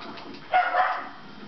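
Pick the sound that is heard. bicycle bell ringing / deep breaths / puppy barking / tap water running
puppy barking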